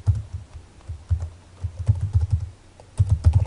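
Fingers tap on a computer keyboard in quick, uneven bursts of close, soft clicks, pausing briefly between runs of keystrokes.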